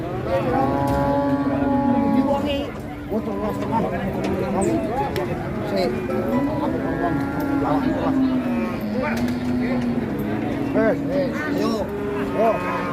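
Several cattle moo repeatedly in low, drawn-out calls, overlapping one another amid steady crowd chatter and background bustle of a busy outdoor livestock market in Ngawi, Indonesia.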